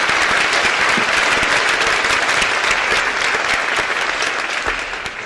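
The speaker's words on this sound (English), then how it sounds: "I would just like everybody to give you guys a huge round of applause" Loud, sustained applause from an audience at a university Formula SAE team car unveiling, dense steady clapping throughout that tapers slightly toward the end.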